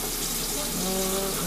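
Tap water runs steadily into a sink while a toothbrush is rinsed under the stream, a close, even hiss with no voices.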